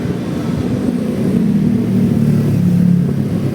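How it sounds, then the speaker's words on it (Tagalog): Motorcycle engines rev nearby in noisy surroundings, a loud low droning that swells and eases over a few seconds with no talk over it. "pag paumanhin nyo, no, maingay ang ating kapaligiran."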